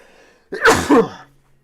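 A single sharp sneeze, close and loud, with a quick intake of breath before it, then quiet.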